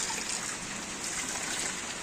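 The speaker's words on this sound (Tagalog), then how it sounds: "Umuulan. Nag-iipon kami ng tubig panlinis dito sa terrace." Rainwater runs and trickles steadily on a terrace where it is being collected for cleaning, a continuous close splashing wash with no voices.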